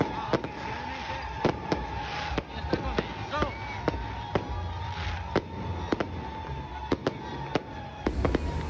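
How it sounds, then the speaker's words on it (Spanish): Fireworks opening the August festivities in El Salvador, a string of sharp bangs and crackles at irregular intervals over a crowd murmur and faint voices, moderately distant outdoors. "Con los juegos artificiales oficialmente se dio inicio a las fiestas agostinas"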